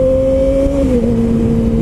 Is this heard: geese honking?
no